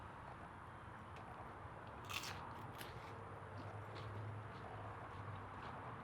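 Someone bites into loaded BBQ nachos: one sharp crunch of tortilla chips close to the mic, followed by faint chewing crackles over quiet room tone.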